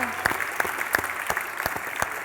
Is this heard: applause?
yes